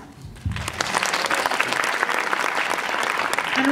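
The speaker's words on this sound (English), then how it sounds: "a huge round of applause to all our judges" A film festival awards audience at a cinema gives the judges a big round of applause. The dense, loud clapping swells after a brief quieter start and holds strong to the end.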